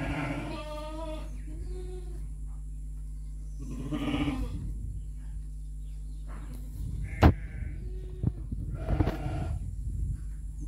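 Sheep and goats bleat in the lambing unit of a central sheep breeding farm, several loud wavering calls from nearby animals spaced across the scene over a constant low hum, with clicks and rustles between.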